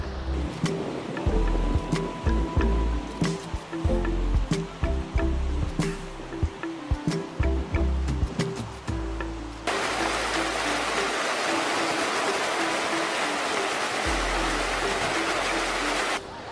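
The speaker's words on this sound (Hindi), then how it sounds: "आप देखिए चारों ओर पहाड़ और बीच में यमुना नदी, एकदम साफ पानी।" The clear Yamuna river rushes steadily between mountains, a broad continuous roar of flowing water with softer moments early on and a louder, denser wash in the second half.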